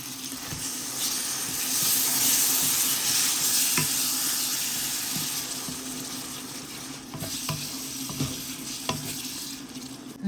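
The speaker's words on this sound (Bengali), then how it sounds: "পেঁয়াজটাও ভাজিয়ে নিলাম একটু ভালো মতো ভাজিয়ে নিলাম" Onion, garlic paste and tomato fry in a pan, giving a steady close sizzle with a few scraping stirs and light clinks and no voices.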